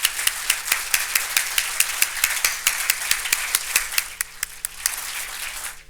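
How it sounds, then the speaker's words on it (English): Audience applause at the 2013 Internet Hall of Fame induction ceremony, a steady wash of many hands clapping with sharp individual claps standing out, sustained for about six seconds before trailing off. "give the 2013 inductees a big round of applause"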